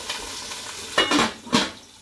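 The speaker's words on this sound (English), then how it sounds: "My onion, my garlic, chopped garlic. And I'll stir." Chopped onion and garlic sizzle in hot oil in a pot while being stirred, with steady frying hiss and two distinct scraping stir strokes near the end, close and clear with no talking.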